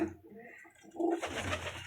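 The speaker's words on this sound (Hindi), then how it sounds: "ये हमारे उड़े उड़ाए कबूतर हैं।" Domestic flying pigeons kept by a hobbyist in South Asia cooing close by, a soft low cooing that swells in the second half with rustling and other bird sounds around it.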